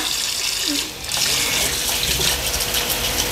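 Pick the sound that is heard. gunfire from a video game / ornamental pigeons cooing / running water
running water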